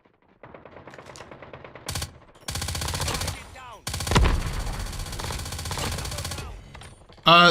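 Bursts of rapid automatic fire from an MG82 light machine gun in COD Mobile, several loud sustained volleys broken by short pauses, with mechanical clicks and reload clatter between them.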